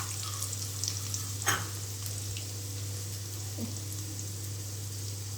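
Two large chopped onions sauté in hot oil for a chicken gravy, giving a steady low sizzle with a brief scrape of stirring near the start, over a constant background hum.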